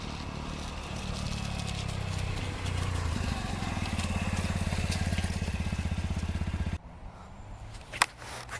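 A motorbike rides along steadily, its engine chugging in a rapid, even pulse that grows louder and more rhythmic, then drops away abruptly to quieter road and wind noise with a brief knock near the end.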